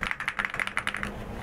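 Rapid, crisp keystrokes on a new computer keyboard, a quick run of close clicks for about a second and then tapering off, with no talking.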